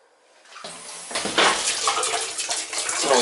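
Water gushes from opened taps in a summer home's plumbing, rising from a quiet start into a strong, steady rushing flow.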